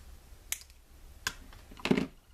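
Sprue cutters snipping plastic parts off a Bandai 1/72 Y-Wing model kit, three sharp clicks spaced about a second apart, the last one a louder double snap, close and quiet.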